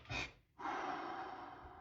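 A person breathing deeply during anxiety, with one close, audible inhale followed by a longer, steady exhale, alone and without talk.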